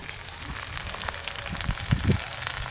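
Onion, ginger and garlic sizzling in hot oil with ground spices while cooking jackfruit cutlets, a steady close crackle with a few louder pops and stirring scrapes near the end.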